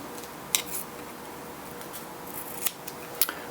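Scissors snip through tape wrapped over a rifle scope's fiber optic tube, producing a few sharp, close, isolated cuts against a quiet background.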